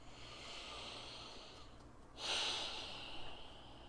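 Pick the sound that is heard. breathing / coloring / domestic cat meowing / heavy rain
breathing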